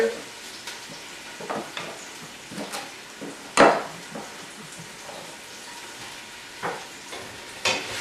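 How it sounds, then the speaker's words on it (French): Onion and fennel fry gently in olive oil for a fish soup, giving a soft, low sizzle with scattered stirring scrapes and one sharper knock of a utensil against the pan, near and without voices. "on va faire revenir l'oignon, le fenouil,"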